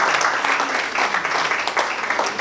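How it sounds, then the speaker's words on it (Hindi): An audience at a poetry recital breaks into a short, dense round of clapping that stays loud and even from start to finish, with only a faint hint of voices underneath. "एक बार इनके लिए तालियां हो जाएं।"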